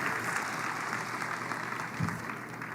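Keynote audience giving a big round of applause: dense, continuous clapping from a large crowd, moderately loud and steady throughout with no break.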